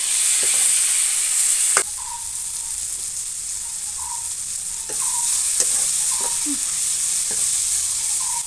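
Tomatoes and curry leaves sautéing in a pan for a stingray fish curry, a steady hiss of frying under repeated clinks and scrapes of a spoon stirring against the metal.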